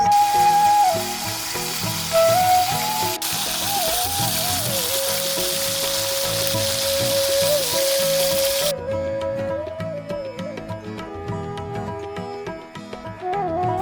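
Cut fish fries in hot oil with a steady dense crackling sizzle throughout, loud and close, with faint background music tones running over it.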